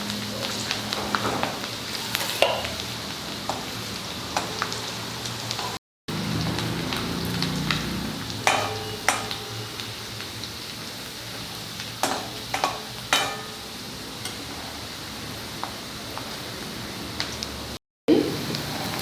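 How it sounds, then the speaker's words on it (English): Finely chopped garlic cloves and ginger fry in a pan with a steady close sizzle, broken by frequent scraping clicks of a spatula stirring, plus two brief silent gaps. "Now these are 6 to 8 garlic cloves and 1 inch ginger, which I have finely chopped. Fry it nicely."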